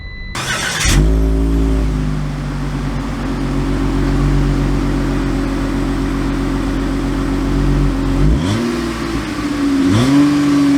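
A 2021 Ram ProMaster 2500 high-roof cargo van starts and drives off, its engine droning steadily and loudly from inside the cabin, then rising sharply in a couple of revs near the end.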